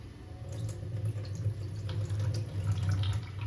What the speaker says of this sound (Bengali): আমি ভালো করে সাবুদানাটা এইভাবে সুন্দর করে ধুয়ে নিচ্ছি এবং এই জলটা আমি ফেলে দিচ্ছি